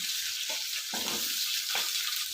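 Onions frying in hot oil for a jackfruit seed palya, a steady close hiss of sizzling with a few stirring scrapes breaking through, no talk.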